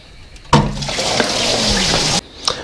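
Coolant from a Morris Mini's loosened bottom radiator hose gushes into a container, a sudden loud splashing rush of liquid that runs steadily for under two seconds, then stops abruptly, followed by a faint drip; no talk.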